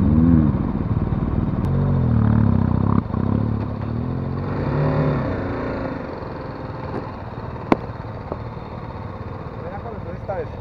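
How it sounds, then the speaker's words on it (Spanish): A BMW off-road motorcycle braking hard on its front brake during off-road riding training, the engine note dropping as the bike slows with some clatter, heard close, and a voice speaks over it. "Ahora sigue la misma frenada, pero con freno delantero a tope."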